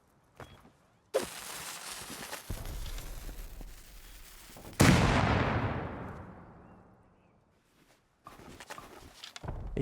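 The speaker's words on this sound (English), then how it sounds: "he can throw the grenades as much as he wants here" Grenade blasts in the survival game Rust: a sharp crack followed by a long roaring rumble that slowly decays, with another loud burst midway and a fresh one starting near the end, no voices.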